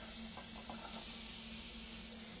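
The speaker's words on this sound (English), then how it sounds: "We want to hear that sizzle." Chopped onion sizzling in melted butter in a soup pot for potato leek soup, a steady close hiss of frying that fills the whole moment with no voices.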